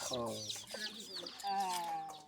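A bare-necked hen clucks and chicks peep close by in Malawi, in a short, busy stretch of overlapping calls, with some soft background chatter mixed in.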